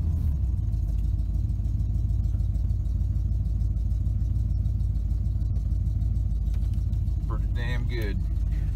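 A Chevy square-body C10 pickup with a new crate 350 small-block V8 idles in a steady low rumble, then is dropped into reverse, with a brief mechanical clunk and squeal near the end.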